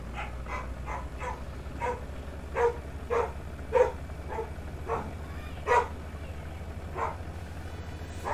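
A dog barks at someone arriving at the front door, a string of about ten evenly spaced yaps somewhat distant in another room, over a steady low hum.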